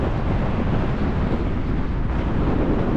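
Strong, steady wind buffets the microphone at a wild camp in the Lake District hills, a loud, continuous roar that runs unbroken from start to finish with no voices.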